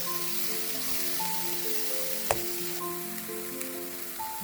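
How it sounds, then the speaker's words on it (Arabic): Lentils sizzle steadily in a pot over low heat, a constant soft crackling hiss with faint tones in the background and one sharp tap. "حطيته في وسط الطنجرة على نار هادية، وخديت نقلي فيهم"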